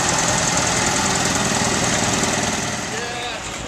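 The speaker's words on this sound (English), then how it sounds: "that's followed by a Massey Harris propane-driven tractor." A loud propane-driven Massey Harris antique tractor engine chugs steadily up close, its rough rumble slowly easing as it moves off.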